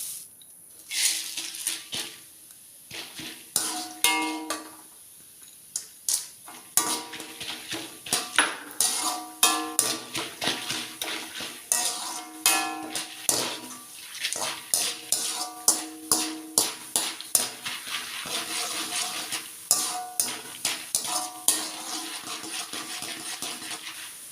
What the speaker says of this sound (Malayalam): അടുത്തതായിട്ട് കടല വറുത്തെടുക്കാം